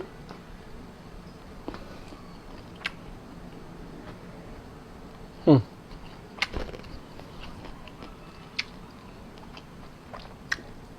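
Someone eating Thai curry with pork, soft close chewing and mouth noises with a few sharper bites and clicks over a quiet room background.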